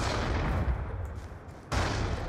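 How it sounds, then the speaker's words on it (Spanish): Gunfire from the video game Black Ops 2 crackles in dense, rapid bursts against a rumbling backdrop, briefly dropping away before another volley resumes, moderately loud and without voices. "Yo juraría que por aquí oí disparos"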